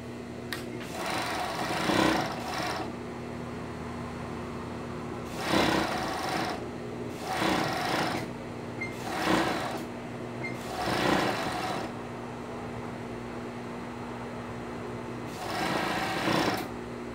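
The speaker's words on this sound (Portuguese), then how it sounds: "Vamos costurar o redor da meinha." A sewing machine stitches around the edge of a child's dinosaur sock in repeated short bursts of rapid mechanical whirring, each lasting about a second, separated by pauses of steady background hum, close-up with no talking.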